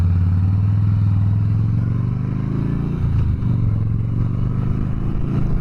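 A 2009 Harley-Davidson Softail Deluxe rides along with a deep, steady engine drone, the pitch dipping and shifting partway through as gears change, close and continuous with no talking.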